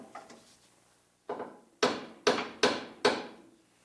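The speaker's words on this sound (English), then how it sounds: "I'm going to have to pound them back on." Splines are pounded onto a lower control arm during a front suspension rebuild: a few light taps, then four loud, sharp metallic hammer blows in a quick, even rhythm, close by with no talking.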